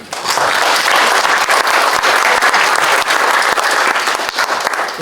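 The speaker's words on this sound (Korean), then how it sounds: "박수 부탁드립니다." Audience at a smart construction safety forum applauds, a loud sustained round of dense clapping that holds steady for several seconds before easing slightly.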